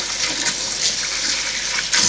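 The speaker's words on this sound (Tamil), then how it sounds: "முதலாக வேல்ஸ் தண்ணியில் வந்து கை கழுவுறது" Tap water runs into a deep kitchen sink in a holiday house, a steady close splashing hiss that surges louder at the end, with no voices.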